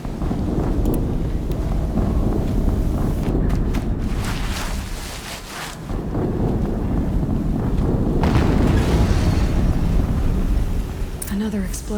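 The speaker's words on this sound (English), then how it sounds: "Another explosion." Explosions and rumbling battle noise from the Horizon Zero Dawn video game, a dense, loud, continuous roar with heavy low-end booms and bursts of debris through most of the stretch.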